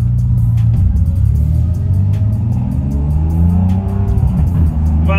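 A Ferrari 612 or 456 with the older F1 automated gearbox drives past loudly, its engine droning and rumbling as the revs rise and the gears change slowly.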